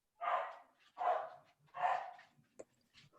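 A dog barks three times in a steady series, fairly close and moderately loud, followed by a few softer yips and rustles.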